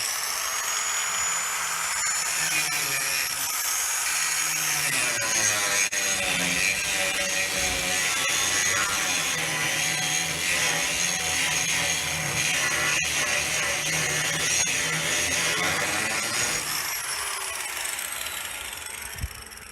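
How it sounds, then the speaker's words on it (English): A small right angle grinder cuts a V-groove into trailer metal with a sustained, fairly loud high-pitched whine and rasp that wavers in pitch as the disc loads and unloads, easing off near the end. "I'll take the little right angle grinder and grind a little bit in here"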